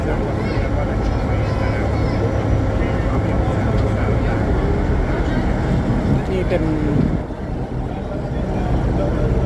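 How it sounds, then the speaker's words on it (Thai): A river ferry crossing toward Sathorn in Bangkok chugs along with a dense, continuous low engine drone, while people talk over it throughout. "นั่งเรือข้ามฟาก"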